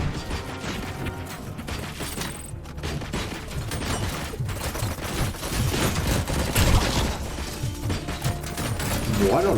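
Gunfire in the video game RoboCop: Rogue City, with dense bursts of shots and mechanical clatter that build steadily in a loud firefight, under someone talking.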